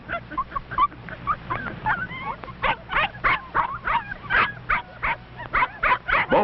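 Scottie puppies romp over a piece of driftwood on a beach, giving off a rapid run of high yips, whimpers and little barks that come close and loud in uneven bursts.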